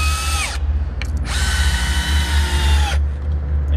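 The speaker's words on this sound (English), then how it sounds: "do the same thing here with the drill, straight countersink" A power drill countersinks screw holes in an arbour assembly, whirring at high speed in two bursts, a short run then a longer steady one, winding down between them, close and loud.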